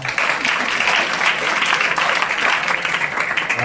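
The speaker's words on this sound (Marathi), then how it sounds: "टाळ्या वाजवा त्यासाठी जोरदार" An audience applauding at a college cultural association inauguration, a dense burst of clapping from many hands that stays loud and even throughout.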